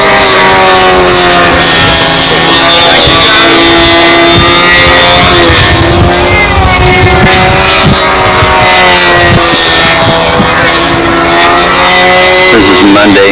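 A model aircraft engine on a practice flight at the 2005 Nationals in Old Time and Classic open practice, giving a loud, steady, high-pitched buzzing drone that holds close throughout with slight shifts in pitch.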